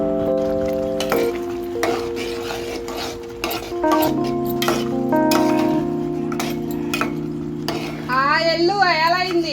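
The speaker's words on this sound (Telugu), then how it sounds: "అడుగంటకుండా కలుపుతూనే ఉండాలండి" Boondi being stirred through sugar syrup for motichur laddu, a soft continuous scraping and swishing in the pan, set against steady tonal background music with a faint voice now and then.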